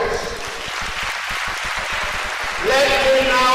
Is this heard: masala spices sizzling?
no